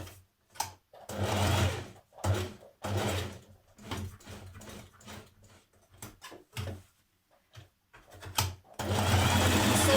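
A sewing machine runs stitching down the side of a flat dress belt, in repeated bursts of motor whir with short pauses between, close and fairly loud, ending in a longer steady run.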